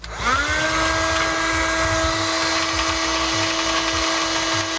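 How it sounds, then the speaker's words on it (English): A vacuum cleaner sucks dust out of a PlayStation 5, its motor spinning up to a loud, steady high whine and holding it close for several seconds before cutting off abruptly, with no talk. "we can come in with a vacuum and vacuum it up"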